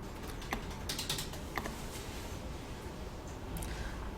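A computer keyboard clicks in a classroom setting, with scattered, fairly faint key taps over a steady background hiss and no voices.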